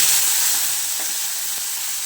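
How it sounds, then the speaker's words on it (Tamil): Tomato and capsicum sizzle and fry in ghee with a pinch of asafoetida while millet bisi bele bath is cooked, a steady bright hiss that holds throughout at close range, with a couple of soft stirring knocks and no talking. "ஸோ இது வந்து நல்லா சாஃப்டாக ஃப்ரை பண்ணணும்"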